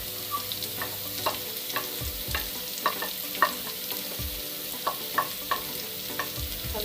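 Onion and green chilli sizzle steadily in a pan while a spatula scrapes and taps in irregular strokes, close and fairly loud, with no talk.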